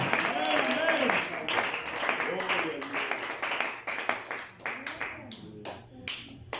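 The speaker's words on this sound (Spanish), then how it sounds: "Un aplauso al Rey de la Gloria." Pentecostal church congregation applauding during a sermon, a burst of dense clapping from a crowd that thins into scattered claps toward the end, heard near with voices mixed in.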